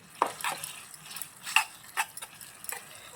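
A tiny pot of miniature raw papaya sweet being stirred over low heat, giving soft scattered clinks and scrapes of a small spoon against the pot, faint and irregular with quiet gaps.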